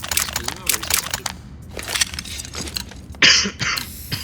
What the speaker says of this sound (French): Pardon pour la tousse.